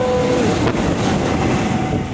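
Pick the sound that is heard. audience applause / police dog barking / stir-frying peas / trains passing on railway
trains passing on railway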